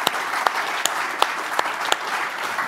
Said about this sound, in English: Please join me in offering another round of applause for this team